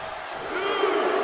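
A packed New Jersey arena crowd in WWE 2K24 roars in a swelling chant, a dense wall of voices growing slightly louder over a short moment.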